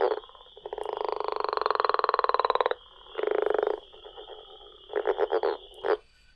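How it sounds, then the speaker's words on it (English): A northern leopard frog gives a long pulsed snoring trill, then shorter grunting bursts and a few quick clucking chuckles, close and loud with no voices. "More specifically, the northern leopard frog."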